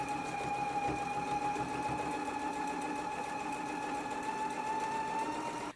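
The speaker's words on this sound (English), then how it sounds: "now we can go ahead and stitch it in place" A sewing machine stitches a dress bodice to its skirt in one continuous steady run, a close, even mechanical whir with a faint whine that holds at the same level throughout.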